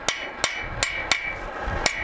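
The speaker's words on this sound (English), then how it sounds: "use a very light hammer and rivet that on" Light, crisp metallic taps of a very light hammer riveting a heated rivet on a forged sticking tommy strike five times at an even pace over a steady background hum.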